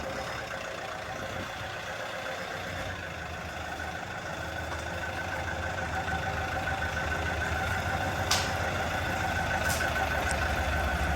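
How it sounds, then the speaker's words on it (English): New non-turbo forklift engine idles quietly with a low, even hum, steady and slowly growing a little louder, with faint clicks near the end. "I like the new forklift. It's quiet. Doesn't have a turbo on it."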